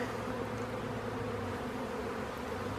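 Honeybees in a populous mini-nucleus hive give off a steady, close buzzing hum, even and unbroken, with no voices over it.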